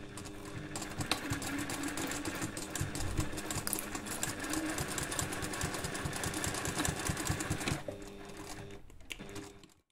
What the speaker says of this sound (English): we're going to sew the seam